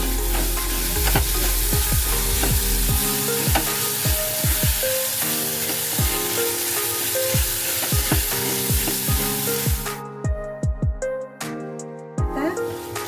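Two small chopped tomatoes hitting hot oil over browned onion in a home kitchen pan, sizzling loudly and steadily while a spoon knocks and scrapes around the pan in repeated clacks, with a quieter, more broken stretch near the end.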